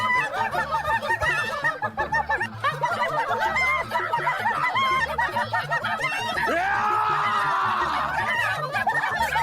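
Chickens clucking and squawking in a noisy courtyard scene from an animated Akbar Birbal story, a dense, continuous chorus of excited cackles and honk-like squawks close by, with a rising squawk near the end.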